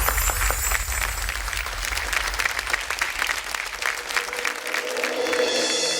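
A studio audience at a Marathi television show breaks into loud, sustained applause, a dense continuous wash of clapping that stays steady from start to finish.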